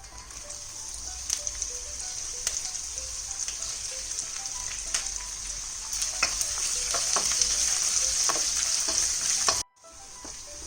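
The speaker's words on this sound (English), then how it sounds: "just a very light stir fry that we're doing here" Spring onion stir-frying in a pan with chili seeds, a steady bright sizzle with scattered crackles and the scrape of stirring, growing slightly louder before cutting out briefly near the end.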